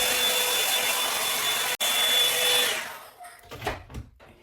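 A hair dryer blow-drying wet hair, a loud steady whooshing roar that drops out briefly, resumes, then fades away, leaving faint handling noises.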